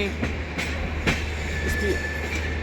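Delhi special express trains roll along the tracks at moderate speed, with a steady near rumble, rhythmic wheel clicks and a faint high squeal.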